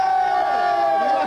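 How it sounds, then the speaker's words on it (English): A crowd cheers and whoops at a 1989 charity auction, a sustained loud swell of voices with a prominent held vocal tone running throughout. "Can we have a cheer for this"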